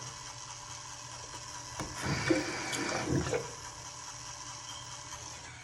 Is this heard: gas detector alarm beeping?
no